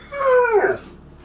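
A dog on a patio lets out one short, whining yelp that bends downward in pitch, close and fairly loud, with no talking over it.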